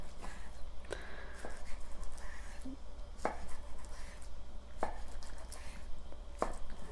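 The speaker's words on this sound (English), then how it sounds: "We're going to take this bacon and slice it up." A knife slices bacon into thick pieces on a board, with sharp chopping strokes falling at irregular intervals, roughly every one to two seconds, over a steady low kitchen hum.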